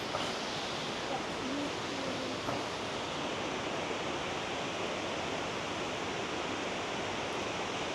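A waterfall seen from a boat trip, heard as a steady, unbroken broadband roar of rushing water at even loudness, with no voices.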